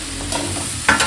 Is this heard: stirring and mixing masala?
yes